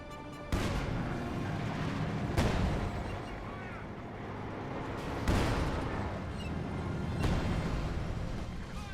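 Artillery barrage from a ZiS gun in Company of Heroes 2, a series of heavy booms about every two to three seconds over a constant rumble of battle noise, with a voice commentating over it.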